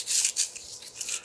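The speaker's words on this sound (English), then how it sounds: "sanding all the oxidation off the rod" Sandpaper rubbed along a crusty, oxidized aluminum welding rod gives quick, close rasping strokes, three or four scratchy bursts in a steady back-and-forth rhythm.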